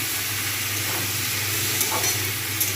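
New potatoes and onion greens frying in a pan while being stirred, giving a steady, close sizzle with a low hum underneath and a few soft scraping stirs, no voices.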